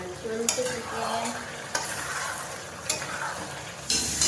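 Chicken sizzles in a pan while being stir-fried kosha style, a steady crackling fry with a few sharp spoon scrapes against the pan, close and fairly quiet.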